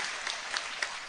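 Faint, distant applause at a roadside street food festival in Tamil Nadu, a thin wash of clapping with a few sharper individual claps standing out.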